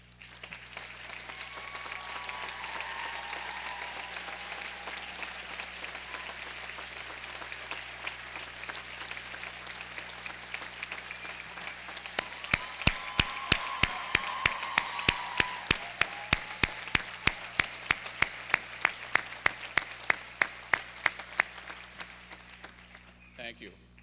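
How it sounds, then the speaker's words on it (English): Audience applause at a 2007 commencement ceremony, a sustained crowd of clapping hands that swells louder midway with sharper individual claps before easing off, under a steady hum. "The audience stole my next line, so please appreciate the applause."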